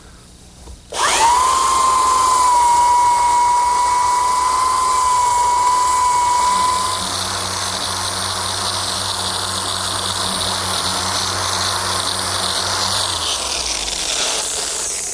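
A belt sander running an 80 grit belt across a wooden butcher block gives a loud, steady high-pitched whine with a hissing abrasive rasp. It holds for about six seconds, then settles into a lower, rougher drone that runs to the end. No one speaks.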